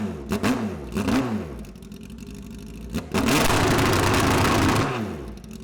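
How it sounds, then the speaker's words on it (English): A Suzuki Hayabusa engine in a 9-second all-motor drag bike revs in quick swooping blips, then holds a loud, harsh, crackling drone against a 2-step rev limiter at about 4,500 rpm. "with this engine running, I'm now activating a 2-step rev limiter. I hold that button, I wind the throttle wide open."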